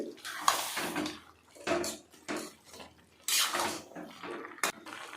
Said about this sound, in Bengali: বাঁধাকপিগুলোকে এবার ঢেলে নেব খুন্তির সাহায্যে একবার ভালো করে মশলার সাথে এটাকে একবার মাখিয়ে নেবেন